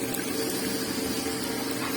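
Water poured from a large glass into simmering kaleji (liver) masala gravy, giving a steady, close liquid rush with a faint bubbling hiss throughout, no voices.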